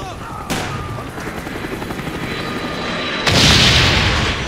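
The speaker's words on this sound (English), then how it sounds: "Friendly B-52 on the way." A B-52 bomber rumbles overhead in the video game Call of Duty Black Ops on the Nuketown map. Its broad engine roar is joined by sudden loud bursts of explosions and gunfire.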